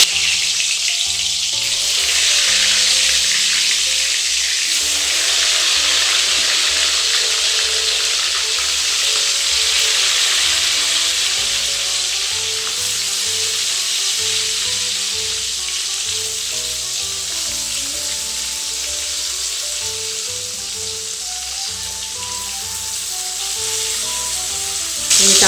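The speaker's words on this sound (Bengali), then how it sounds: "তেল গরম হয়ে গেছে, এবার বেগুনগুলো তেলে ছেড়ে দিচ্ছি।" Brinjal pieces fry in hot oil, giving a steady, loud, broadband sizzle that continues unbroken throughout, with faint clinks now and then.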